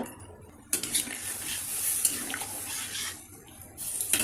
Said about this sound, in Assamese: এতিয়া মই ইয়াত গৰম পানী দি ল'ম